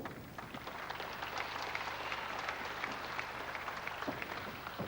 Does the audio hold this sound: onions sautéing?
no